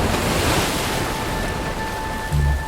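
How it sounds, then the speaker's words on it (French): Steady roar of ocean surf with sea spray hissing across the whole stretch, a low wind rumble underneath and a heavier wave surge near the end. "Et le bruit des vagues et des embruns."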